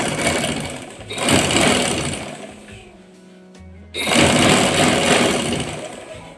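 A sewing machine stitches a salwar in two bursts of steady, fast mechanical whirring, separated by a pause of a couple of seconds, heard up close with no talking.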